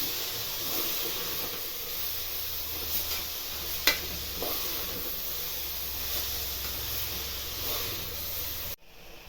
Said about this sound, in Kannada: ಇದು ಬೀಟ್ರೋಟ್ ಇದು ಒಂದು ಸ್ವಲ್ಪ ಮಿಕ್ಸ್ ಮಾಡಬೇಕು ಚೆನ್ನಾಗಿ